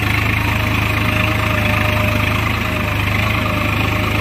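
A Swaraj 855 tractor engine runs in low third gear at about 1000 RPM with no load, giving a steady, loud, even drone with a throbbing low pulse throughout.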